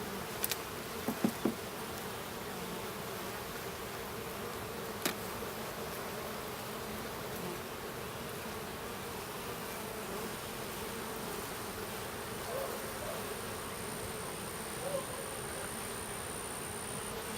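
A steady, dense buzzing of many honeybees close by at a hive, a continuous hum with no voices over it.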